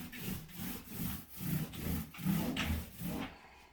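A brush scrubs paint onto a surface in quick back-and-forth strokes, giving a rhythmic, close, rasping swish about twice a second.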